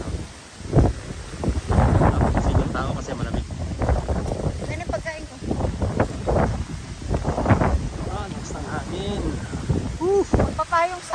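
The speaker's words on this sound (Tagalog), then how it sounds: "Yan yung po ang hangin, ang lakas." Strong wind gusts buffet the microphone outdoors in the UK in late November, rumbling loudly and unevenly. Someone talks throughout.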